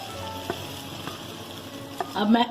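Browned onions go into a pot of beef nihari with a soft, continuous frying sizzle, a few faint clinks, and a brief louder bubbling swell near the end.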